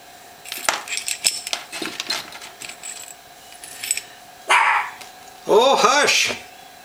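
A dog barks several times nearby, including two loud, drawn-out barks near the end, in a workshop during a Yamaha Seca 750 carburetor rebuild, with plates and small metal parts clinking and someone talking between them.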